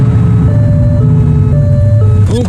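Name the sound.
police car siren in the video game The Precinct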